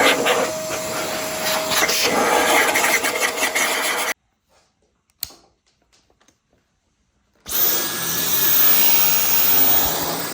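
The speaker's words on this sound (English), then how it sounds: "gonna get the Dyson out and give this a vacuum and see how much sand and" A Dyson vacuum cleaner pulls sand and dirt out of a rug with a loud, steady roar. The roar cuts out for a few seconds of near silence, then starts up again.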